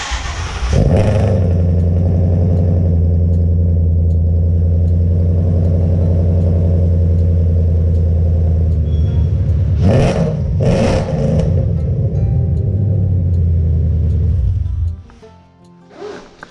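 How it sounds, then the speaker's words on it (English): A loud hot rod engine with no mufflers revs hard and steadily for about fourteen seconds, its deep exhaust roar swelling in two sharper blips near the end before cutting off. "the car is probably going to be insanely loud for the trip"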